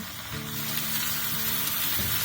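Squeezed, cut spinach sizzles steadily in a hot pan for a spinach and moong dal dry stir-fry, a dense, even crackle held at a constant close level from start to finish, with no voices.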